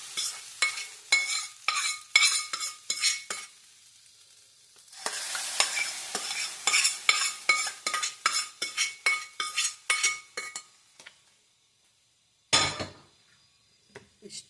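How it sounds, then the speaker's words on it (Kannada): A hot tempering of mustard seeds, asafoetida and curry leaves in oil is poured into chutney and stirred, giving a string of short crackling bursts and clinks of a spoon against a pan, with gaps of near silence between them. "ಒಗ್ಗರಣೆ ಅದ್ರಾಗ ಹಾಕ್ಕೊತಾ ಇದ್ದೀನಿ"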